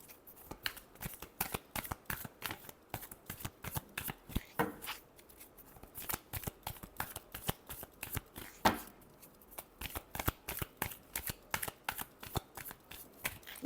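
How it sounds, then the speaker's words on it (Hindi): Tarot cards being shuffled by hand, a long run of rapid riffling flicks with brief pauses between bursts, close and soft. "last shuffle"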